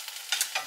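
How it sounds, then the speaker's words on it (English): Brief kitchen cooking noise: a soft hiss with a few quick scraping bursts, like food being stirred in a hot pan. "if y'all hear something, if y'all can't really see me, I'm in the kitchen cooking"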